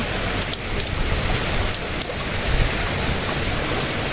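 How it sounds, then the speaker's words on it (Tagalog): Heavy overnight rain keeps falling hard and evenly, a thick continuous wash of drops hammering surfaces, loud and close with no speech. "Ang lakas ng ulan, magdamag na umuulan dito."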